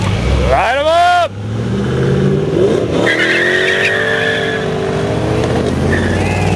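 A muscle car at a car show revs hard and does a burnout, loud engine roar with squealing tires, then a sustained screeching spin under crowd chatter and voices.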